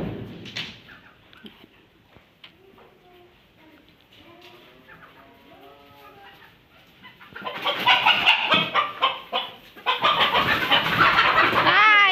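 Chickens on a small farm squawk and cluck as they are caught to be carried into their coop, with a quieter stretch of soft clucking giving way to loud, frantic flapping cries in the second half.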